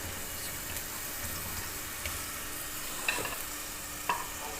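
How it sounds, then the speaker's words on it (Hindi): Chopped medium-size onions fry in cooking oil in a pan, giving a steady soft sizzle with a few light clinks of a utensil, and no talking over it. "ये कुकिंग ऑयल लिया है, उसमें मैंने दरमियाने साइज़ के प्याज डाल दिए हैं।"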